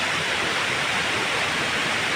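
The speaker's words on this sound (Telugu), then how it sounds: "ఈ వాటర్ ఫాల్స్ వచ్చే సౌండ్ కానీ" Waterfall at the Bhupathipalem project, heard as a steady, full rush of falling water that holds an even roar throughout with no pauses.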